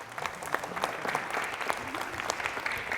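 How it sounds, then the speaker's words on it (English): A group at a primary schools competition applauds steadily, with dense overlapping claps from a moderate distance, filling the whole moment without a break. "Give them a clap, please."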